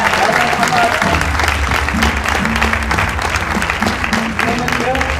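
An audience at a sports awards ceremony applauds loudly and steadily, with dense clapping that continues throughout and is mixed with crowd noise and music.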